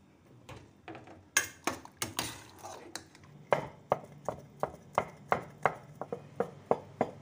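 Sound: chopping vegetables with a knife for vegetarian dumplings

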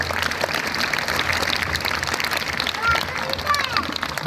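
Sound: audience applauding

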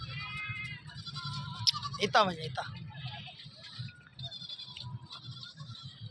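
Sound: white Barbari breed goat bleating at a goat market

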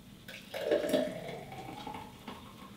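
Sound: pouring spinach and mango smoothie into a glass

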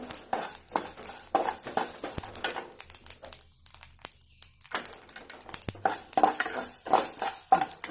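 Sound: ingredients crackling while roasting in a pan for chutney powder

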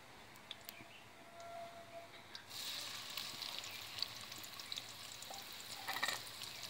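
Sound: chopped onions frying in oil in a frying pan

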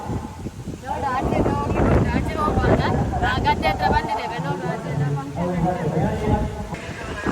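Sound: strong wind

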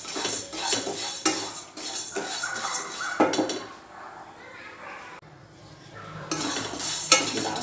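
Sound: dry-roasting urad dal in a pan

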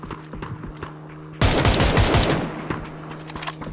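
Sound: gunfire in the video game PUBG

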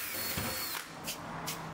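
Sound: drilling a door with a smaller drill bit

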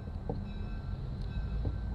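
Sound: passing train

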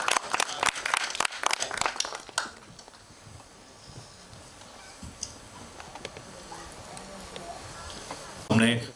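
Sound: audience applause at a movie trailer launch

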